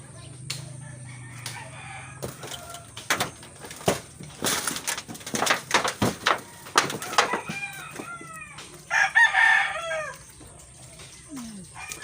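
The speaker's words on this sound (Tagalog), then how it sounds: "Ayun yung mga manok" Several chickens cluck and a rooster crows nearby, mixed with scuffling and rustling noises, after Typhoon Ulysses in Camarines Norte, Philippines.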